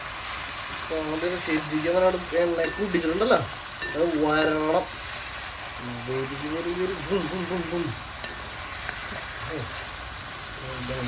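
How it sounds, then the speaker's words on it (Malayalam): Ginger and garlic fry in a pan as the base for chicken biryani. A steady, close sizzle runs throughout, with a person talking over it at intervals. "നമ്മുടെ ഇഞ്ചിയും വെളുത്തുള്ളിയും ഏകദേശം ഒന്ന് മൂത്ത് വന്നപ്പോഴേക്കും"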